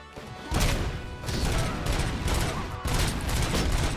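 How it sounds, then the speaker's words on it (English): A grenade blast and gunfire in a video game fill the mix with loud bursts, roughly three heavy booming crashes in succession, each followed by sustained rattling noise. "Oh shit, grenade!"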